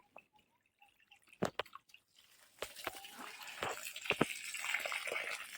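Water is poured onto soil in a greenhouse, starting as scattered drips and splashes and then becoming a steady, soft pouring hiss that grows slightly louder toward the end.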